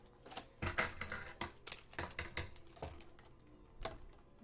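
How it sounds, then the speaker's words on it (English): Packing tape on a Good Smile Company Nendoroid box is cut, giving a quick run of close, crisp clicking and snipping ticks in irregular bursts, fairly quiet and with no speech. "I'm going to try to just cut the tape here."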